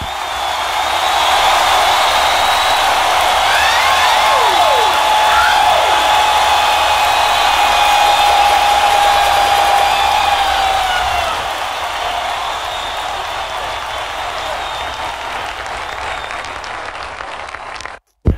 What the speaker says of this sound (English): Audience, give them and yourselves a round of applause.